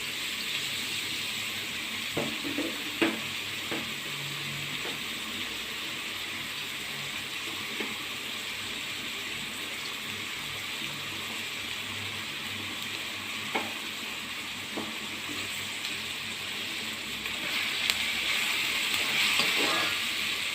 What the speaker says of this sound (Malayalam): ഇതൊന്ന് മിക്സ് ചെയ്യാം, ഇളക്കി കൊടുക്കാം.